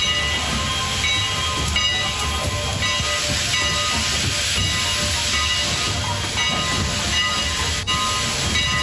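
Steady, loud hissing of steam venting from a steam locomotive at the Strasburg Railroad, a dense broadband rush that holds almost unbroken throughout with a faint low rumble beneath and no voices.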